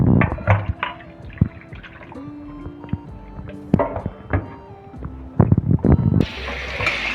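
Cooked ada is poured into a strainer set over cold water in a kitchen. Splashes, drips and trickles come close up, with a few light clinks of utensils and a brief rush of water near the end.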